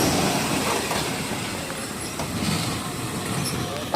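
A train rolls past on the Death Railway in Thailand, a steady close rumble of wheels on track with faint squeals and clicks, continuous and fairly loud throughout.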